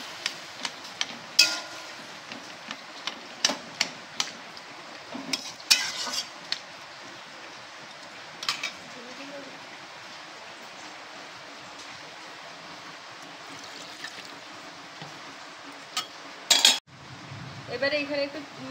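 Chopped ash gourd tips into a pan at the stove, with sharp clinks and scrapes of metal pots and utensils scattered throughout, a soft low sizzle underneath and a louder clatter near the end.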